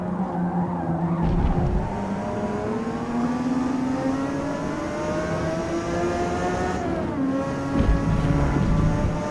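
A race car in Forza Motorsport drones loudly through sustained engine harmonics that slowly rise in pitch, with brief tyre scrubbing bursts near the start and end, continuous and close without talk.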